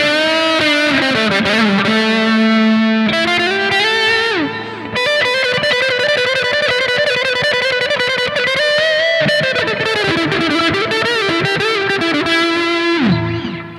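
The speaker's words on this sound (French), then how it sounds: "Là, on va passer sur un solo en distorsion." Electric guitar solo played through a Boss GT PRO effects processor with distortion pedal, EQ, delay and reverb: loud, saturated sustained notes and bends, with rapid note runs and echoing tails, alone without speech.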